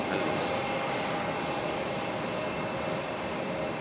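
Southwest Airlines jet in Colorado One special livery at Raleigh-Durham airport, a steady, broad engine roar heard from a distance with no break or change in level.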